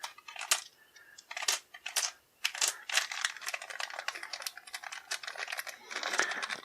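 Small plastic pieces from the Mice and Mystics board game are dropped into a little plastic baggie, making close, irregular clicks and crinkling rustles in quick bursts.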